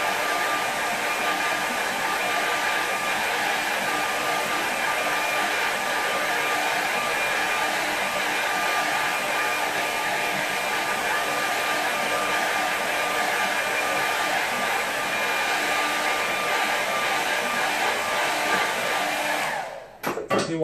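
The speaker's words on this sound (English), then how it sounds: "air dryer." Hair dryer blowing on a watercolour painting runs as a loud, steady whir with a constant high whine for about twenty seconds, then cuts off abruptly at the end.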